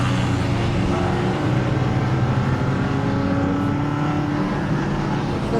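Race cars in a tuner production race circulate behind a safety car, a steady dense engine drone and road roar with no distinct passes, loud and continuous throughout.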